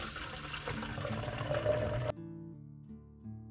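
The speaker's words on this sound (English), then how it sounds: "Pour enough water to cover the onion roots, avoiding letting the water touch the leaves." Water pours into a bottle holding green onion roots, a close trickling splash for about two seconds before stopping abruptly, followed by a faint quiet tone.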